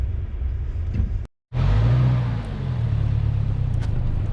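A pickup truck's engine rumbles loud and close while cruising along a rural route checking rabbit boxes, a steady low drone that cuts out for a moment before returning just as strong.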